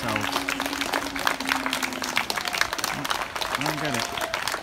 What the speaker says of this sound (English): I don't know why you're clapping yourselves.